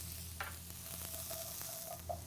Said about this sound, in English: I'm going to add this right to the hot butter. And cook this just until the shallot is softened.